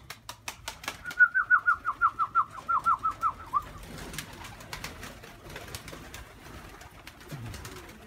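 Pigeons in a loft, with a quick run of rhythmic coos and wing flaps up close, followed by quieter shuffling and faint background sounds.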